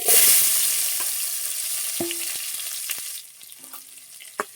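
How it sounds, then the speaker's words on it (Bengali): Chopped onion frying in oil with a bay leaf, giving a steady close sizzle that is loud at first and gradually fades, with a few light clicks of a utensil against the pan. "ভালো করে লাল লাল করে ভেজে নেব"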